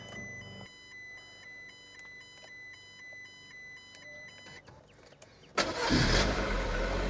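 Car engine cranking without catching, a repeated rhythmic starter whir with a dash chime beeping overhead, ending in a sudden loud burst of noise.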